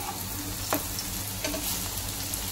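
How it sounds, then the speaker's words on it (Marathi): Red amaranth patties frying crisp in hot oil, a continuous close sizzle with a few brief clinks or stirs, no voices. "हे बघा, छान असे मस्त खरपूस तळायचे।"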